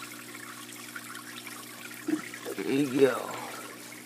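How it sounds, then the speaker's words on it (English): Water splashes and trickles out of a pipe in bursts toward the end, close and fairly clear, while someone talks over it. "you can see it's the water's coming out of there and everything"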